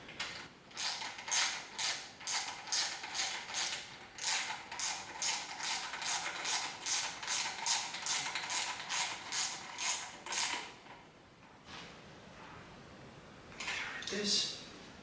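Repeated ratcheting creaks from a socket wrench tightening the front brake of a 1977 BMW R75/7 motorcycle, a steady run of close, evenly spaced clicks for about ten seconds, a pause, then a brief final burst.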